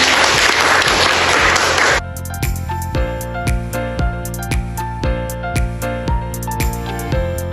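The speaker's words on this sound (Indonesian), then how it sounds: "Mantap sekali, tepuk tangan." Classroom students applaud together in a loud, dense burst for about two seconds, then it stops and steady rhythmic music takes over.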